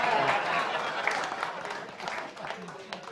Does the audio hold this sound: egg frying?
no